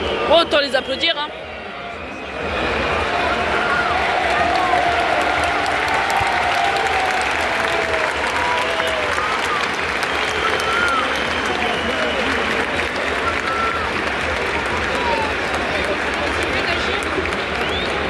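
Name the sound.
applause from football fans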